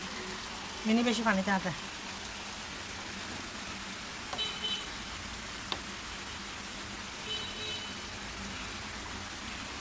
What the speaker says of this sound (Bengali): নর্মালি বৃষ্টি পড়তেছে।